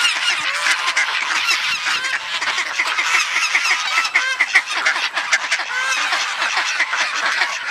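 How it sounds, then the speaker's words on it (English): A flock of geese honks loudly and continuously, many overlapping calls packed close together with no pauses. "Oh my God, here come the geese."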